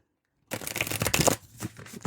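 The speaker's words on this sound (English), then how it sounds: "I want to do a riffle shuffle." A burst of quick, crisp papery fluttering as cards are riffled together, about a second long, then a softer settling rustle.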